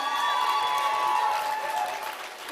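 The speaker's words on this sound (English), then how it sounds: "Please give them a big hand once again." Audience applause and cheering fill a hall after a stage performance at a 57th annual foundation day celebration, steady, dense clapping that holds fairly loud for a couple of seconds before easing slightly.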